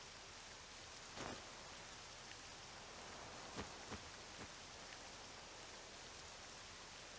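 Rain falls in the video game Octopath Traveler 2 as a steady, even hiss of fine drops, with a few faint sharp ticks scattered through it and no voices.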